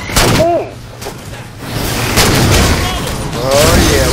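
Gunfire and explosive booms ring out during Halo 4 gameplay, sustained and loud, with bursts of shots layered over each other and a player's voice briefly heard over the action.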